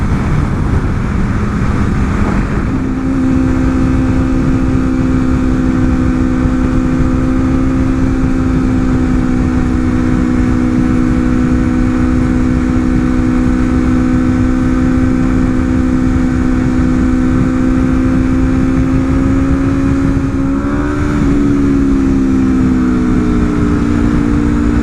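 A 2024 Aprilia RSV4 motorcycle engine runs steadily and loudly for most of the stretch, holding a sustained drone that rises slightly in pitch near the end.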